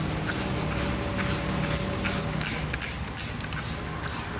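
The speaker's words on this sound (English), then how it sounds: "Just spray it on." A spray bottle of degreaser cleaner hisses steadily as it coats a dirty surface, a close, continuous wet spray with faint rubbing underneath and no talking.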